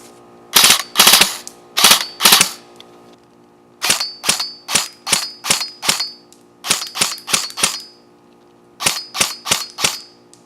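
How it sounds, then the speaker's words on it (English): A Krytac LVOA-C airsoft rifle is dry fired in a quick run of sharp, metallic trigger clicks, grouped in bursts of three to six with brief pauses between them, close and crisp with no voice over them. "See with the trigger pull, it's actually not that far. That's dry fire."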